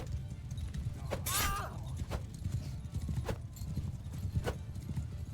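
Rhythmic clip-clop of horse hooves at a steady gallop in Mount & Blade II: Bannerlord, fairly close, with a brief whinny and faint game sounds in the background.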